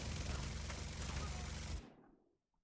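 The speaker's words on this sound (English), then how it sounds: "So on a very fast firing LMG" A very fast-firing light machine gun in a video game rattles out a dense, loud continuous burst for nearly two seconds, then cuts off abruptly into a brief fading tail.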